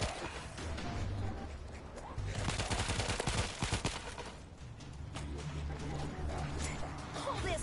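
Rapid gunfire and launcher blasts in the zombie shooter World War Z fill the scene with dense, continuous shooting, a burst of sharp cracks and a heavy explosion in the middle, loud throughout.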